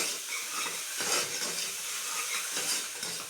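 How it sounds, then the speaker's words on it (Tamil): Curry leaves and spices sauté in hot oil with a steady sizzle, with occasional scraping stirs of a utensil against the pan. "இப்போ நல்லா வதக்கலாம்"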